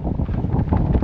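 Strong wind buffets the microphone at a wild camp on an exposed hillside, a dense, continuous low roar that gusts and swells without pause and fills the whole moment.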